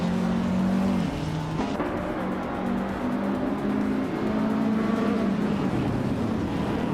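Race cars, including a 1960 Scarab Indy, launch off the start line in a vintage racing game, their engines droning loud and steady while the pitch rises and shifts as they accelerate together.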